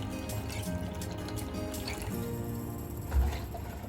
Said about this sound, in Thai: แช่น้ำส้มสายชูนะครับ ช่ให้ท่วมเลยนะครับ